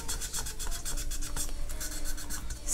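Steady rhythmic rubbing of low-grit sandpaper on a Blythe doll scalp, close up, with quick back-and-forth strokes and no voices.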